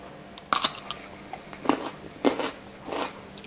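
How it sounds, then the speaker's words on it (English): Crunchy bites into home-fermented Jerusalem artichoke pieces, pickled about three weeks in their own juice: several sharp, close crunches spaced about a second apart, each followed by brief chewing. "Really crunchy."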